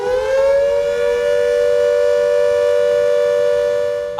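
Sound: air raid siren during war mock drill

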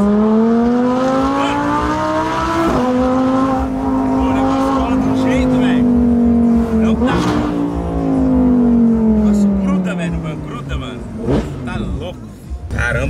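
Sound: Audi R8 engine roaring while accelerating hard

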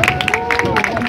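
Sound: audience applause

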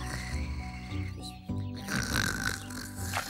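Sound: snoring coming from a bush

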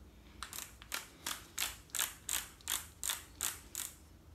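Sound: torque wrench ratcheting on engine case nuts

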